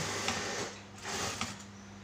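A sewing machine stitches a shirt collar in short bursts, its motor whirring in two brief runs separated by a pause, fairly close and quiet, with no talking.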